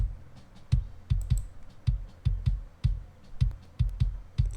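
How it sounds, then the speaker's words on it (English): Unprocessed studio kick drum track, dry and close, thumping in a steady rhythm of about a dozen hits with faint bleed and clicks between them. "So this is how the kick sound without any plugins."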